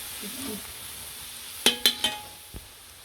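Ingredients for chicken kothu sautéing in a pan with a soft steady sizzle, broken by a few sharp scraping clatters of stirring near the middle and a dull knock toward the end; no talk.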